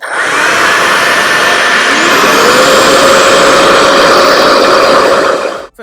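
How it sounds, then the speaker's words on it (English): A Revere reverse-air hair dryer vacuum runs steadily on level 4, a loud, continuous whirring motor roar with a faint rising whine, cutting off abruptly at the end. "Essentially, it's a reverse air dryer, a vacuum of sorts for your hair, as opposed to the typical traditional blow dryer."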